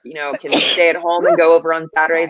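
A single sharp sneeze bursts out near the start, close to the microphone, with a person talking continuously around it.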